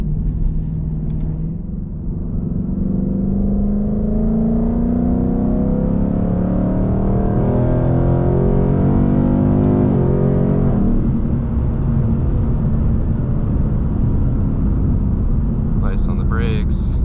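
A 2022 Mustang GT engine winds down from high revs while braking on backroads, a loud close droning rumble falling steadily in pitch, followed by settling engine hum.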